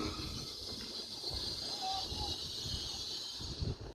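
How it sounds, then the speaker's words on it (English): A Grand Central service from London King's Cross to Sunderland running through Doncaster station, a faint, steady rumbling hiss of a passing train heard from a distance with no one speaking. "Coming through now is a Grand Central service from London King's Cross to Sunderland"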